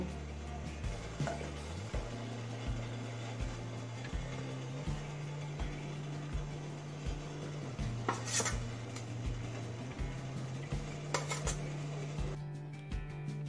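Steamed egg momos are lifted from a steamer pot over a low gas flame, with light metal clinks and scrapes of utensil against pot over a steady low hum.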